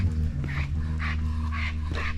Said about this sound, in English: The dogs are very excited